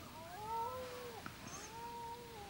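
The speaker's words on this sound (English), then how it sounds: "The farm cat." A farm cat at night lets out two long, drawn-out, rising and falling yowls, fairly close and clear over a faint background hiss.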